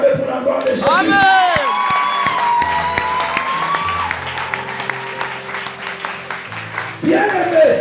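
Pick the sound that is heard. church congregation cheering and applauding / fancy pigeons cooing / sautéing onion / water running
church congregation cheering and applauding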